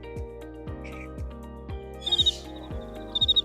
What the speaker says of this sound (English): All these birds are very loud around me.